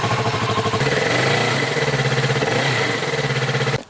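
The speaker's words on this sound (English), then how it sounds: "This is what my bike sounds like with an external microphone." A motorbike engine idles close to an external microphone, a loud, continuous throbbing pulse with a slight rise and fall in pitch, stopping abruptly at the end.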